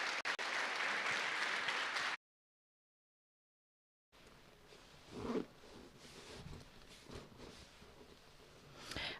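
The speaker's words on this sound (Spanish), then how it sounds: "Vamos a recibir con un fuerte aplauso al pastor Andrés Lim." A Sunday church congregation claps loudly in a dense burst welcoming the pastor, then after a gap of silence quieter room sounds and faint voices follow.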